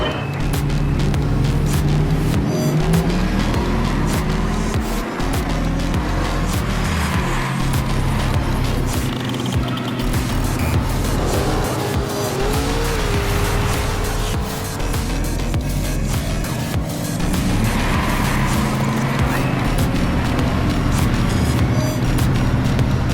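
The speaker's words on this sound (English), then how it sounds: "you gotta be hard on your brakes, flip it into a turn, and then being able to hit the throttle coming right back out of it" Mercedes-AMG roadster on a race track, engine revving hard under acceleration, easing under heavy braking and pulling back out of turns, with rising and falling engine pitch and some tire noise throughout, loud and close.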